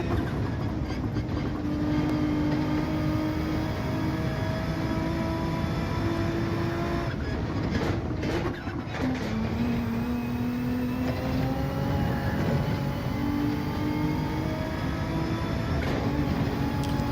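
Nissan GT-R engine in Gran Turismo 7, a steady loud drone with rising and falling revs, a brief dip around a gear change, tyre noise underneath and faint talk.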